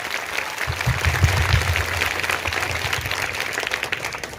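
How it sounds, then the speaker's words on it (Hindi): An audience at an Independence Day celebration applauds guests arriving on stage, a steady wash of clapping from many hands lasting throughout at an even, moderately loud level, with no talk. "जरा जोरदार हो इनके लिए तालियां."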